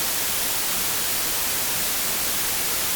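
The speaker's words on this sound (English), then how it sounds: "White noise sounds like that." Steady hiss of white noise, broad and even across the whole clip, with no pauses or other sounds.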